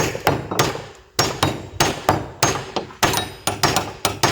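Hammer striking repeatedly at close range, loud sharp blows in quick irregular bursts of two or three with brief pauses between, no talking.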